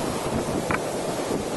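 Hurricane Charley's eyewall winds howling through Punta Gorda, Florida, a constant roaring rush buffeting the microphone with no pause, loud and close, with no one speaking.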